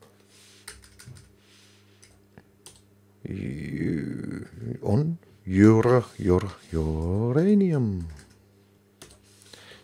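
Light clicking on a computer keyboard comes in scattered taps at the start and end, while someone talks loudly through the middle.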